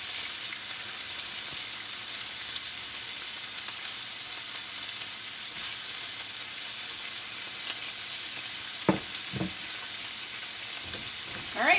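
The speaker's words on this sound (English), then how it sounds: "I don't know if you can hear me over the sizzling." Chicken pieces sizzle steadily in a hot frying pan for ramen noodles, a loud, even crackling hiss close up, with a couple of sharp clatters of a utensil against the pan near the end.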